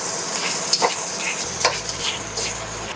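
Cabbage and bok choy sizzle and hiss steadily in a hot frying pan while Malaysian Hokkien noodles are cooked, with a few brief clanks of stirring, close and continuous for the whole stretch.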